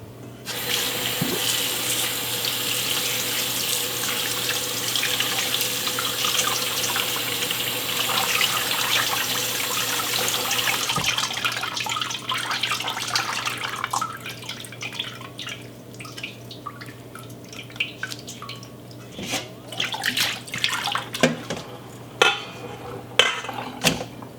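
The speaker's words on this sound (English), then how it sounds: "rinse the butter with really cold water so that I can get all of the buttermilk out of it" Cold tap water pouring over homemade butter being rinsed in a sink, a steady rushing stream for about ten seconds, then softer splashing, dripping and sloshing as the butter is worked under the water.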